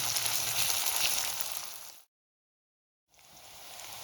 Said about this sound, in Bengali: গ্যাস ফ্লেম হাই করে পেঁয়াজটাকে 2 মিনিট গরম তেলে ভেজে নিতে হবে।